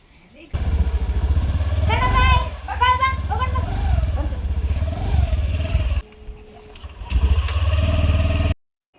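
A scooter engine starts up and idles close by for a ride, with people and someone talking over the motor and a brief lull partway through.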